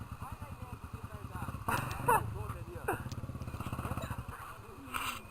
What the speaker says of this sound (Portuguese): Ó, chegou a morrer a moto.